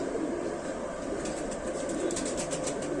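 Rampuri Mom Chonch pigeons coo steadily up close, a soft continuous murmur with faint wing rustles and no voices over it.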